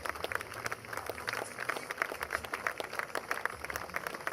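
Steady applause from an audience at a memorial gathering for Egyptologist Alain Anselin, as guests are called forward. Many hands clap in a continuous, moderately distant patter with slight surges, and no voices rise above it.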